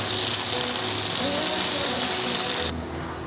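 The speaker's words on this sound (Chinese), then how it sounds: "现在我就是转中大火来给它炙烧，给它烧烤。" Rolls of pressed tofu wrapped around asparagus, brushed with barbecue sauce, searing in a pan over medium-high heat: a loud, continuous broad hiss close by that suddenly drops in level near the end.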